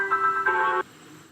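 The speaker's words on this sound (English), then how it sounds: "The regular chord sounds like this." A single bright synth chord, played on an MPC One, rings out briefly, restruck once, then cuts off abruptly, leaving faint room tone.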